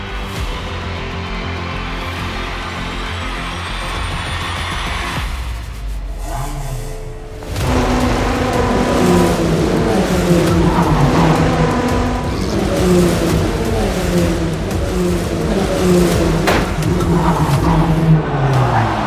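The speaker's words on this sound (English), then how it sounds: "history is about to be made, because the first ever FIA F4 World Cup is just moments away from starting. We go racing" FIA F4 race cars race at the Macau Grand Prix street circuit, their engines loud and close. Revving, downshifting and acceleration layer over one another as several cars pass in quick succession.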